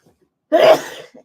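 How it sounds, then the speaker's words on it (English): A single sharp sneeze bursts out after a brief quiet, loud and close, trailing off with a small breath. "And now I'm going to sneeze because I just decided to be live, and why not sneeze?"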